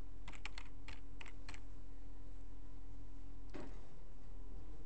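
A computer keyboard typed on during a university lecture: a quick run of close, crisp keystrokes, a pause, then one more tap over a steady room hum.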